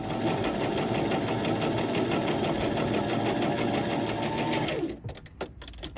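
A home sewing machine stitches a narrow seam along a jogger pocket, a steady close motor whir that runs for several seconds before stopping abruptly, then faint handling noises follow.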